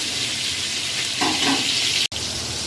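Prawns frying in a hot pan, a loud continuous sizzle with a brief stirring scrape midway and a sudden cut near the end, no voices.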